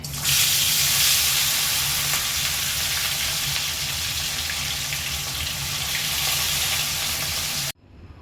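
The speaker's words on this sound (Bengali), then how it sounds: "তেলটা গরম হয়ে গেছে এবার মাছগুলো ভাজতে দিয়ে দিচ্ছি" Pieces of catla fish frying in hot oil give a loud, steady sizzle that holds for about seven seconds and then cuts off abruptly, with no voices over it.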